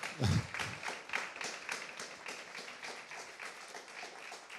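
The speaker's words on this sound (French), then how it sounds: "on peut les applaudir" An audience at a conference on the future of rail training claps for the panel, a busy crackle of hands with a low thump at the start, steady and even at moderate volume.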